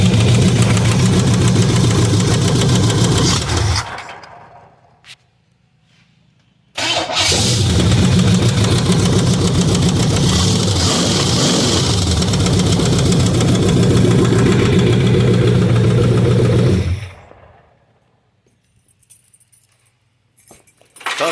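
Leaking Chevrolet Monte Carlo engine started and held at idle with its restrictive exhaust removed, a loud steady rumble close by that cuts out briefly, restarts and runs again before stopping, with no talk.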